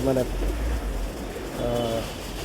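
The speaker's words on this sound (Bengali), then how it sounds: "এইটা একটা মাদি কবুতর, ঠিক আছে" Two low pigeon coos, one at the start and another near the end, under a steady background rumble.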